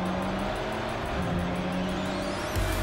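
A Ferrari race car in the racing game Project Cars 3 holds a loud, steady engine drone with a rising whine, then shifts up near the end. There is no talking.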